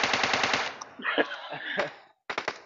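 Gunfire in the zombie mode of the mobile game PUBG Mobile: a rapid automatic burst, then a jumble of shots and game effects, a brief silence and a final quick burst, loud and close.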